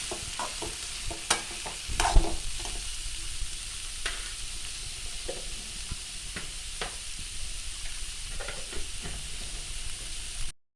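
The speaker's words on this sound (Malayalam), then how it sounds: "മസാല നമുക്ക് വഴറ്റിയെടുക്കാം" Onions with salt, turmeric and masala powder sautéing in a pan for a pork curry, a steady broadband sizzle with frequent scraping stirs and spoon knocks, the loudest clatter around two seconds in, with no talk.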